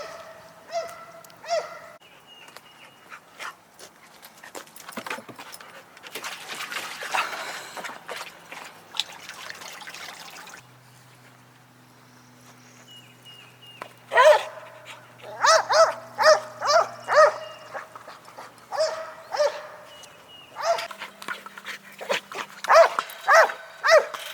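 Several dogs bark at a large divided dog park in the Latitude Margaritaville community on Hilton Head, with repeated bursts of barking near and far, some overlapping, and quieter gaps between.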